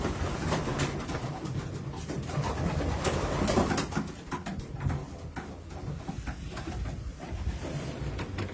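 Pigeons coo softly in a pigeon loft, with a steady low murmur of calls under a busy background of clatter and rustling.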